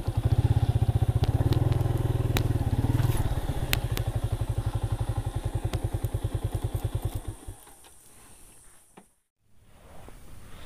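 A motorcycle engine idles close by with a rapid, throbbing chug, then slows and winds down as the bike is parked near a railway tunnel mouth, ending in a brief silence before faint ambient noise.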